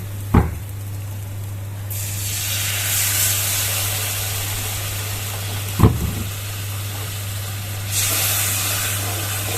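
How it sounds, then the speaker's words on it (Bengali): Water poured into sizzling spice paste in a pan, with grated tomato already added, sends up a loud hissing, steaming surge that flares twice, with a couple of sharp clinks and a steady low hum behind. "মশলাটা আমার কষে গেছে, এবার একটু জল দিয়ে দেবো।"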